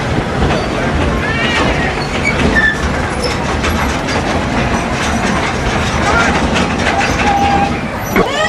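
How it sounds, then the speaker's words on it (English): A Walt Disney World Railroad train at Magic Kingdom rolls along its track with a steady, loud rumble and occasional wheel squeals, continuous throughout, while an announcer's voice talks over it. "Welcome aboard the Walt Disney World Railroad."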